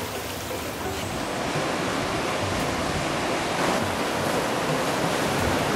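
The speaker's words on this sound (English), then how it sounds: "Just these dudes riding these endlessly perfect 2 and 3 foot waves, go on forever" Small two- to three-foot surf waves breaking continuously along a Bali shoreline, a steady broadband wash of white water that stays loud and even throughout with no voices.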